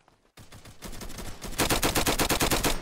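Rapid automatic gunfire rattles in a Roblox Flag Wars match, a few scattered shots first, then building into loud, dense bursts of evenly spaced rounds.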